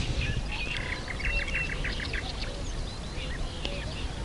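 Water birds call repeatedly by a lake during fishing after heavy rain: a gull and what sound like duck quacks give short, chirpy bursts over a steady outdoor rumble of wind and water, moderately distant.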